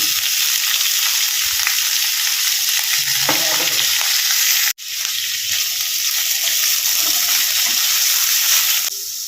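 Chicken fries with garlic in a pan, giving a loud, steady hiss close up; a brief sharp break around the middle, then the sizzle carries on with faint stirring clatter.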